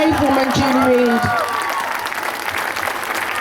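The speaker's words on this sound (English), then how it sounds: "I just want to for all of us to give a round of applause to Julie Reid, a Labour councillor who has come up here and showed her support for Corbyn" Applause and cheering from a gathered crowd at a political rally honouring a Labour councillor, loud and sustained, starting at full strength and continuing steadily with a few voices calling out over the clapping.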